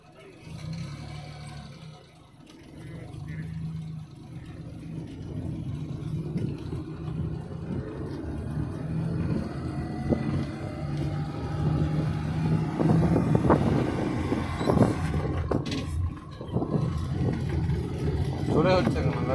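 A car being driven at moderate speed, a continuous low engine and road rumble that grows slightly louder over time, with people talking over it.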